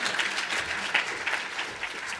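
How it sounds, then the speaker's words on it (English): An audience applauds a departing guest speaker named Tommy at the close of a talk, steady dense clapping filling the whole moment without pause, fairly even in loudness from start to finish. "Let's give Tommy another round of applause."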